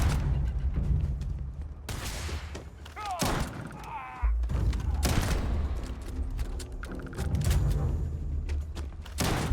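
Shotgun blasts boom in rapid, heavy bursts during Starfield gameplay, mixed with thuds and other combat noise. The firing comes in several loud clusters with brief pauses between them.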